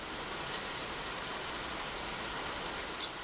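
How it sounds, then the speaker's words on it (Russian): Steady, dense rain falls on still water among reed beds in the Volga Delta, a constant close hiss of drops with no pauses and no voices. "Холодный ветер приносит дожди"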